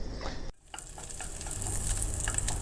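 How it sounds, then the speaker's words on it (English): Onions sautéing in a pan, a close, steady sizzle with a brief dip and soft stirring scrapes, caramelizing for a burghul and chickpea dish. "I will keep on sauteing, and when they start splitting up"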